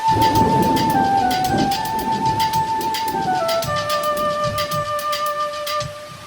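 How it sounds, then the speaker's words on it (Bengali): A sudden downpour starts in a Bengali animated fairy tale, with a rush of rain hiss and soft thunder-like swells. Sustained, stepping musical tones play over it, and no one speaks. "হঠাৎ বৃষ্টি শুরু হলো"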